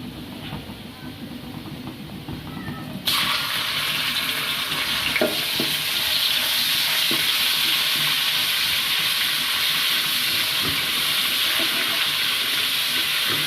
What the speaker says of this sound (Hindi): लहसुन अदरक के पेस्ट को भी 2 मिनट के लिए हम फ्राई कर लेंगे।